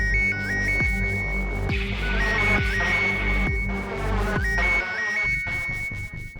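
An electronic phone ringtone plays a repeating melodic pattern, loud and steady, cutting off near the end.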